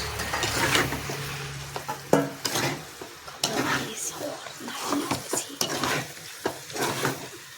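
Sea crab being stirred in a cooking pot, with a spoon scraping and clattering against the metal over a steady sizzle in a continuous rhythm. Voices are faintly heard in the background.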